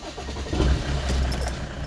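Mercedes-Benz G-Wagon off-road 4x4 engine cranking and catching, a brief surge that settles into a low, steady idle, close by and with no voices.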